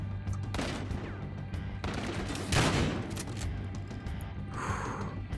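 Rapid gunfire in the video game Battlefield Hardline, with bursts of shots and heavy volleys from several directions, loud and continuous against a steady low drone of game ambience. No voices are heard.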